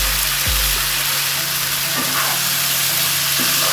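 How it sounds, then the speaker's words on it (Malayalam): Biryani masala fries in a pan as curry leaves are tossed in, producing a loud, steady close-up sizzle with a brief burst of crackle near the start and no voices. "ഇനി ഇതിനകത്തേക്ക് കുറച്ച് കറിവേപ്പില ഇട്ട് കൊടുക്കാം."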